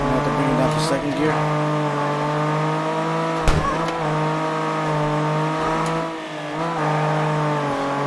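A drift car engine in the CarX Drift Racing Online game holds a steady loud droning hum in second gear, with brief tire squeals and revving swells along the way, and a voice talks over it.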